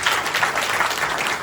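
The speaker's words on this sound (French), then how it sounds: "Pas bon applaudissement." A church congregation at a Sunday worship service breaks into brisk, steady applause, a loud and even wash of many hands clapping together.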